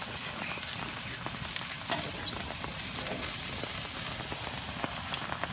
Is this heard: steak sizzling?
yes